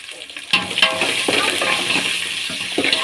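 Onions frying in a pan, a close, continuous sizzle with scraping stir strokes throughout.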